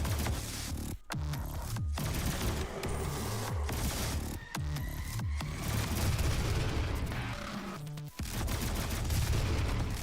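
Gunfire from the sniper rifle in DOOM 2016, several sharp cracks cutting through a loud, continuous wash of in-game combat noise and music, spaced irregularly across the stretch.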